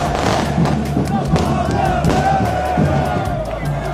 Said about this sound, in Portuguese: Quando o ônibus do São Paulo deixou o CT, a torcida entrou em êxtase